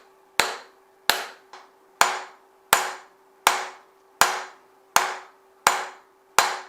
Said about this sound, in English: When tapping the bearing, it's not accurate enough to just tap it in the center hoping that it goes in perfectly flat